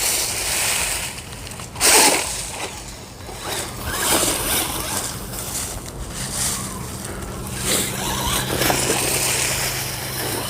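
A Bezgar HP141S 3s mini truggy, a small RC car, churns through dry leaves outdoors in cold weather, giving a steady rustling, crunching roar with whirring motor noise and brief louder bursts.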